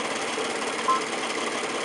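Sewing machine back stitching the seam of a cushion cover: a continuous fast motor hum with rapid needle rattle throughout, close and steady with no break or talk.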